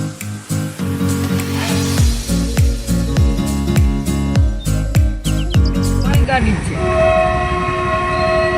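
A goods train rolls past a closed level crossing near Jamnagar, its wagons clacking in a quick regular beat over the rail joints, then a long loud horn sounds close by as the train goes on.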